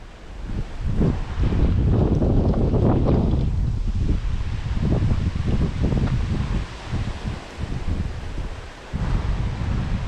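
Strong wind at a rainy fishing spot buffets the microphone in loud, gusty rumbles that rise and fall throughout, with no clear voices over the roar.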